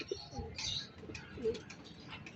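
Domestic racing pigeons at a loft in Calamba, Laguna give soft coos, a couple of low murmuring calls over faint background chatter and rustle.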